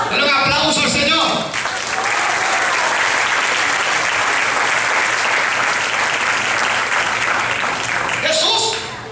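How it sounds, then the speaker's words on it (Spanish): A church congregation at an evangelistic service claps for the Lord, loud dense applause running for about eight seconds, starting after a brief bit of speech and fading as talking resumes at the end. "Denle un aplauso al Señor."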